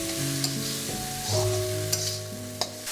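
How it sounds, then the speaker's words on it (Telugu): Masala paste and chopped mushrooms fry in oil over a medium flame, a steady close sizzle with occasional scrapes and clinks of a spoon stirring through the pan, no voices. "ఈ మసాలా పేస్ట్ అంతా కూడా ఒక 5 నిమిషాలు నూనెలో వేయించుకుందాం అండి, మీడియం ఫ్లేమ్ పెట్టి."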